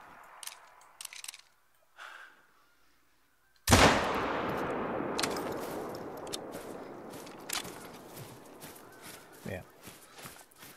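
A hunting rifle shot in theHunter: Call of the Wild, a single sharp, loud crack followed by a long fading rumble and echo outdoors, with quieter footsteps and rustling before and after.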